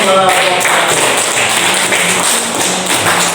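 A room of students clapping for a group presentation in a classroom, a steady loud patter of many hands running for a few seconds.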